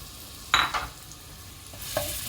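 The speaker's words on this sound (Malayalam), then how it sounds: "കുറച്ച് ഓയിൽ ഒഴിച്ചു കൊടുത്താൽ ചൂടായപ്പോഴത്തേക്ക് ഇഞ്ചി, വെളുത്തുള്ളിയും പെരിഞ്ചീരകവും കൂടെ ഒന്ന് ചതച്ച് വാരിയതാണിത്." Crushed ginger, garlic and fennel seeds hit hot oil for a cauliflower masala, giving two short bursts of stirring and spattering over a faint, steady sizzle.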